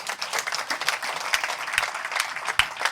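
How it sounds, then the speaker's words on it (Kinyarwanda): A church congregation applauds to praise God, with a short spell of lively, uneven clapping and a few sharp claps standing out. "Komera Imana yacu amashyi"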